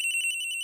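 A cell phone in the Phoenix Wright: Ace Attorney video game rings in a quick trill of three pulsing bursts that settles into a steady electronic tone, clear and close.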